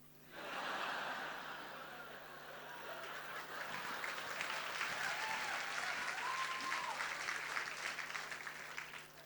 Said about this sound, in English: Clapping for the minority, yeah?